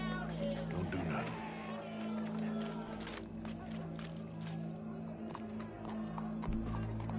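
Horse hooves clip-clop steadily across the ground beneath a continuous low hum, with people talking through much of it.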